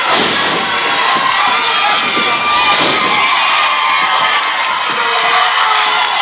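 A loud professional wrestling crowd roars and cheers continuously during a tag-team match, dense shouting and whooping from many people filling the arena, with a few thuds from the ring mixed in.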